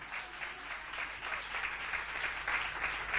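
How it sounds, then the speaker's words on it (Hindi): Sustained applause from a large congregation in a church, steady and fairly loud, filling the whole stretch without any talking. "बोलो यीशु मसीह की जोरदार ताली खुदावंद के लिए बजाएंगे।"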